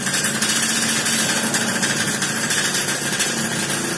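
The motorcycle exhaust of a running Lumba 120R engine gives a loud, continuous rough idle rumble with a steady buzzing texture, close and unbroken throughout, with no voices.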